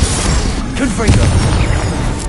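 A Confringo spell explosion in the video game Hogwarts Legacy booms loudly with a heavy, rumbling fiery burst and crackling debris, and a voice is heard over it.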